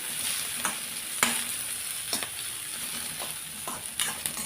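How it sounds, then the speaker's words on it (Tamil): Grated coconut sautés in a pan for kara kuzhi paniyaram, giving a steady soft sizzle broken by a few scraping stir strokes of a spoon, close and moderately quiet with no voices. "எடுத்து வச்ச தேங்காயும் சேர்த்து ஒரு வதக்கிடுறேன்"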